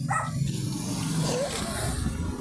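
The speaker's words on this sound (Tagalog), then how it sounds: "May maliit na aso doon. Matapang." A small dog yaps faintly a few times in the background amid outdoor ambience and low rumbling.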